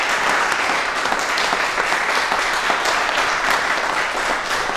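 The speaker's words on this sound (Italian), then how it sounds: "Adesso potete applaudire." An audience applauds after a university graduation declaration, steady dense clapping filling the whole stretch at a loud, even level with no pauses.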